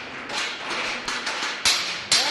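Hammering on a construction site where apprentices train, heard as a few irregular sharp strikes over a busy, noisy background, with the two loudest impacts near the end.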